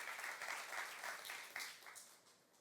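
Congregation clapping in a church during a youth-group sermon, a steady patter of many hands that softens toward the end, with no voices over it.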